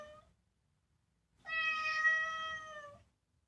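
A pet cat lets out one clear, drawn-out meow of about a second and a half, close to the listener in an otherwise quiet room, with a short faint sound just before it.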